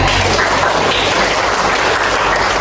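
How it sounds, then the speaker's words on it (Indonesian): A classroom of students claps together loudly and continuously, a dense wash of close applause for a few seconds with no talking over it. "berikan tepuk tangan"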